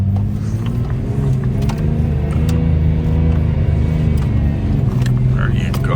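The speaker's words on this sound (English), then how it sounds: "So we're in second gear low. We're gonna go full gas." A 4x4 in second gear low, driven at full throttle in the Tunisian desert, gives a loud, steady, close engine roar with a deep rumble that holds throughout.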